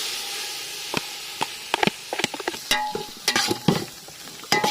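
Tomatoes stirred in a frying pan while cooking Kaithi biryani, with chili and coriander leaves added, giving a scattered series of clinks and scrapes over a soft steady sizzle.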